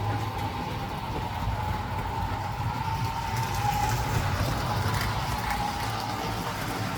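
An American Flyer New Haven EP-5 S gauge model electric locomotive runs steadily along the track, giving a continuous rumbling, clattering rail sound with a faint hum, alone and without talk.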